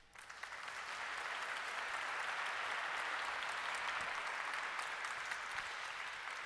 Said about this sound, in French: Ça, on peut les remercier, puis après presque on les applaudisse,